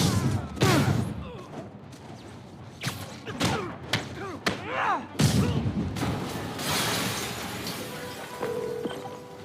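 Explosions and heavy impacts in the Spider-Man PS4 video game: a series of sharp booms and thuds in quick succession, followed by a rolling rumble and debris, loud and close.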